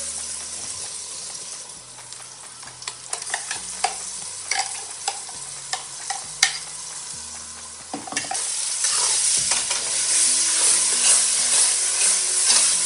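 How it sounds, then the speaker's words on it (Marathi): Green masala paste and tomato sautéing in a pan for mutton biryani, with steady sizzling, frying crackle and scraping spoon strokes, the sizzle swelling louder and more continuous toward the end. "आपण हा मसाला चांगला परतून घेऊया."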